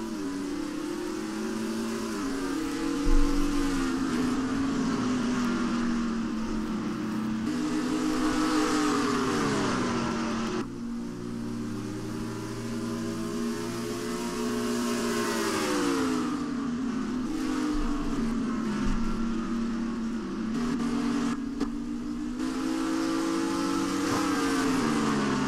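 Race cars in a racing video game roar together at the green-flag start of the Foxwoods 301 at New Hampshire Motor Speedway, a loud, steady, rising and falling engine drone that continues without a break.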